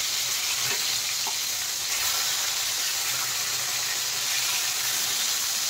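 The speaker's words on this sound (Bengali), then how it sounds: "দেখেন, দুটো সাইডই কিন্তু লাল লাল করে আমি ভেজে নিয়েছি" Pieces of snakehead fish fry in a pan of hot oil, giving a steady close sizzle and hiss that continues evenly with no talk.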